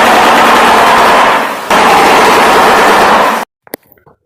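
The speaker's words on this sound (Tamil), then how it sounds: "ஷோயிபிர்னு சொல்லக்கூடிய இந்த பறவையுடைய சத்தம் தான்" A shoebill's call comes as a loud, rapid rattling burst resembling machine-gun fire, running continuously with a short break, then cutting off into near silence with a few faint clicks.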